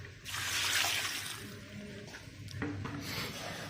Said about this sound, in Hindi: इसमें 2 जग पानी डाला।